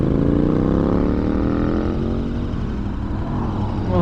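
A 2015 KTM 1190 Adventure motorcycle engine revs up loud and close, pitch rising steadily over about two seconds, then settles into a throaty steady run before a final rise.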